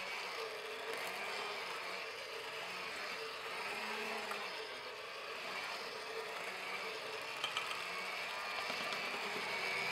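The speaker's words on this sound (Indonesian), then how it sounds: "Mixer dengan speed rendah sampai semua bahan tercampur menjadi satu." Stand mixer churning donut dough made with margarine, salt and wheat flour on low speed, giving a steady, continuous mechanical whir with a faint rhythmic churn. It runs alone at moderate level, with no talking.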